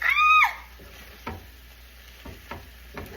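A green bean stir fry sizzles softly in a pan while being mixed, with a short bright squeak at the start and then a few scraping stirs over a faint frying hiss.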